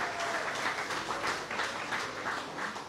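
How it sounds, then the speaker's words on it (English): A studio audience gives a round of applause on a talk show. The clapping is faint and distant, a steady wash of many hands that holds for a few seconds. "a round of applause"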